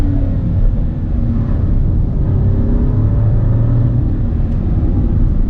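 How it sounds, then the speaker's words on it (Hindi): Citroen C3 turbo petrol three-cylinder engine held at high revs while driving, a loud steady hum and drone with rising harmonic tones, no talk over it. "And this is how the engine sounds at higher रेव्स।"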